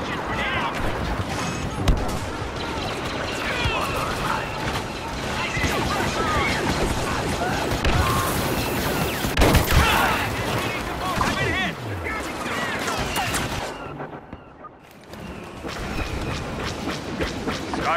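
Blaster fire and battle noise from a Star Wars Battlefront walker assault fill a dense, loud soundscape of repeated shots and rumbling explosions, with in-game voices talking over it.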